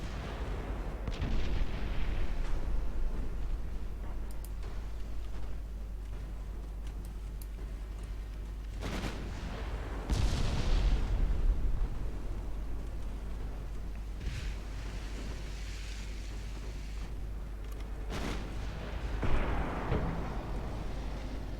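Heavy 11-inch naval guns on a cruiser fire in a Ultimate Admiral Dreadnoughts battle, a few deep booming blasts spaced several seconds apart over a steady low rumble of game ambience.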